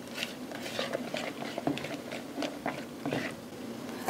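Batter for a steamed date cake, with oil just added, is stirred in a bowl, giving soft repeated scraping and light clinks of the utensil against the bowl, close and steady with no talking.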